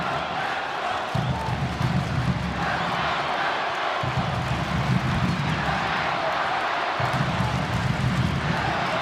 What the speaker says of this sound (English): The crowd sensing the momentum change, as well as these players.